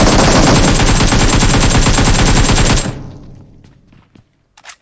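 Sustained automatic gunfire in the video game PUBG Mobile, a loud rapid burst of shots that stops abruptly, followed by a few faint clicks and steps.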